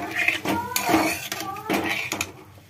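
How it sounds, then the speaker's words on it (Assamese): A utensil scrapes and clinks against a pan while chicken chilli gravy is stirred after the lid comes off, with someone talking over the steady stirring. "এতিয়া আমি ঢাকনিখন গুচাই দিলো আৰু অলপমান লৰাই দিছো"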